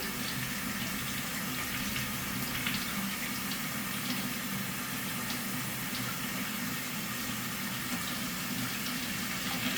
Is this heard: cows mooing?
no